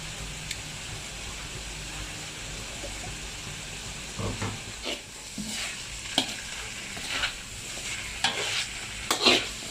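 Pork with basil, chilli, fish sauce, soy and oyster sauces sizzles in a hot pan while a spatula stirs and scrapes in irregular strokes, building toward the end, close with no talk.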